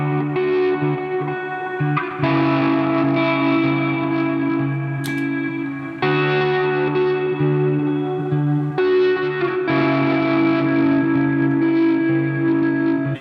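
Electric guitar through an overdrive pedal plays sustained, gritty chords with a few brief pauses, loud and continuous, with no voices.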